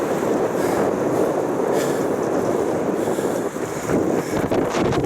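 Steady, loud wind buffeting the microphone while rollerblading uphill against the wind over a bridge on an island, a continuous roar with no talk.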